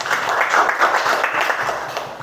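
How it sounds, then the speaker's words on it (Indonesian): A classroom of students claps together for a classmate, a loud, close burst of many small hands that holds steady for a couple of seconds before tapering slightly. "Beri tepuk tangan untuk Mila."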